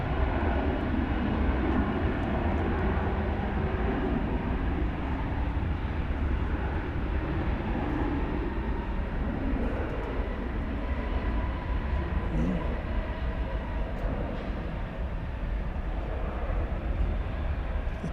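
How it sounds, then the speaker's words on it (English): A JetBlue airliner lands on the east side of DFW airport, heard as a steady, broad jet roar that stays fairly distant and constant throughout, with no clear peak. "let's see if we can find JetBlue with the Inspiring Humanity livery landing over on the east side"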